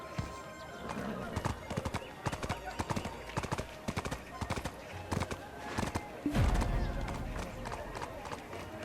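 Rhythmic clip-clop of horse hooves on hard ground in the video game Black Desert Online, steady and close, with talking over it and a brief horse whinny near the end.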